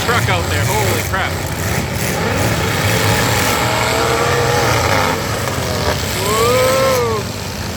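A full-size pickup truck revs its engine during a demolition derby at a county fair, with a broad, loud engine roar and rising whines over constant crowd and arena noise, and a voice speaks over it.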